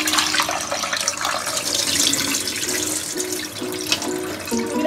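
Water running and splashing as rinse water is poured off washed anchovies in a kitchen, a steady close pour with some clinking of a vessel, no talking.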